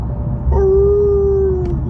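A person's voice imitates a werewolf howling at the moon, a single loud, sustained, steady howl held for over a second, close to the microphone with no other talk.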